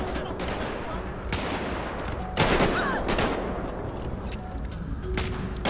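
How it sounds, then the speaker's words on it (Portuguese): Game gunfire from GTA V in a zombie survival mode, with repeated bursts of shots and a volley-like fusillade around the middle, over steady background game noise. "Tem alguém atirando."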